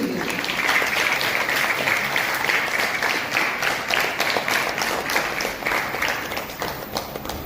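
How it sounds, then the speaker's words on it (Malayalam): An audience at a church in Karuvarakundu applauds warmly to welcome the leaders of the Abba 2024 camp, with dense, steady clapping from a large crowd sustained throughout and no speech over it. "വളരെ സ്നേഹത്തോടെ നല്ലൊരു കയ്യടിയോടുകൂടി നമുക്ക്"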